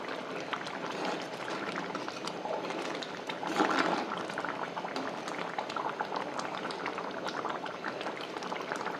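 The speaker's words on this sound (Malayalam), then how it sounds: "ചേമ്പിലയാണ് കേട്ടോ ഈ പൊങ്ങി പൊങ്ങി തിളയ്ക്കുമ്പോൾ വരുന്നത്" Taro leaf curry bubbles vigorously in a pot close by, a steady thick gurgling and popping that carries on without pause.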